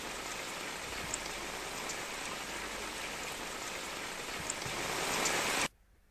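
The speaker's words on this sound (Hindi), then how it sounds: "जिस तरह से बारिश यहाँ पर लगातार हो रही है" Heavy, continuous rain pours steadily on roads in Rajkot, a dense even hiss with occasional drip accents, cutting off abruptly near the end.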